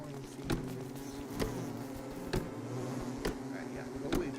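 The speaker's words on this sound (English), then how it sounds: "go away bees" Bees in the game Don't Starve Together give off a steady, close insect buzz that drones throughout, with soft periodic thumps recurring about once a second beneath it.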